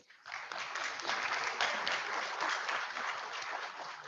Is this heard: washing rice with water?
no